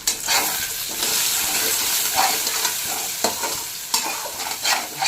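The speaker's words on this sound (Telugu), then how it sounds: "ఇప్పుడు స్టవ్ ఆన్ చేసి ప్యాన్ పెట్టి అందులో మనము ఎగ్స్ని అయితే ఇలా పగలు కొట్టేసి మనం ఫ్రై చేయాలన్నమాట." Eggs cracked into a hot pan on a stove fry with a constant bright sizzle, broken by repeated scraping stirs of a spatula, close and loud with no talking.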